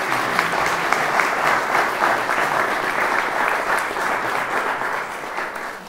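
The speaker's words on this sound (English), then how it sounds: "Give them a big clap, please." Warm, steady applause fills an outdoor wedding ceremony on the Aran Islands as guests clap for the newly married couple, a continuous close wash of hands with a faint crowd murmur beneath.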